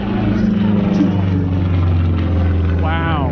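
Large single-engine propeller airplane with a 21-foot wingspan, engine droning loud and close with a steady throbbing hum at an air show, someone speaking over the noise.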